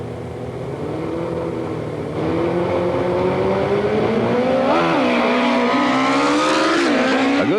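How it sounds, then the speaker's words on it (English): Loud 1984-era drag motorcycle engines drone and rise in pitch as the bikes rev and accelerate from the starting line at a drag strip, the roar climbing steadily and staying constant throughout. "drag bikes are on the starting line ready for their time trial practice runs"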